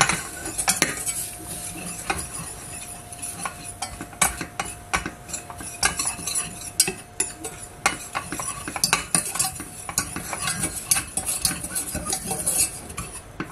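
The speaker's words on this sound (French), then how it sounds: "Je remue un petit peu." A utensil stirs traditional béchamel sauce in a pan, giving repeated close scraping and clinking strokes in an irregular rhythm over a faint sizzle, with no voices.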